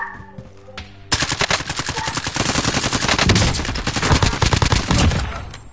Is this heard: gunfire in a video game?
yes